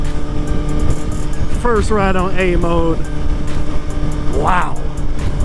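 A Suzuki GSX-R 1000 motorcycle on a first ride in A mode, its engine humming steadily under heavy wind rush, with a rider's voice briefly exclaiming over the noise.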